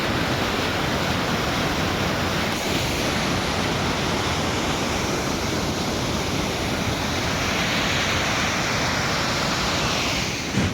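A rushing waterfall stream in the mountains of North Sikkim gives a loud, constant roar of white water, unbroken and with no talking.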